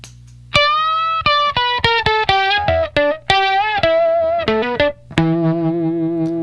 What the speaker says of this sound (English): With the first octave turned on the Jonny Octave, it sounds like this.